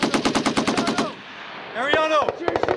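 A Marine Corps machine gun fires a rapid burst of about ten evenly spaced, sharp shots, then falls briefly quiet while a voice shouts, before a few more quick rounds crack out.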